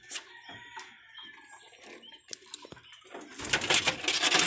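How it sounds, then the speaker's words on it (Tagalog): Racing pigeons coo and flutter close by while being fed grain, with soft scattered pecks, then a busier rush of wingbeats and movement in the final second. "Pakainin na natin yan mga kalapatids."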